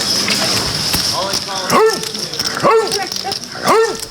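A dog barks in a busy room at the World Series of Poker Main Event, three loud, close, evenly spaced barks over a bed of murmuring crowd chatter and talk.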